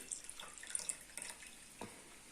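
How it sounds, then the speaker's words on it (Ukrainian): A freshly made homemade drink is poured into a container, giving a faint, thin trickle of liquid with soft splashes and small drips, heard alone against quiet room noise. "Напій вже готов, я його наливаю."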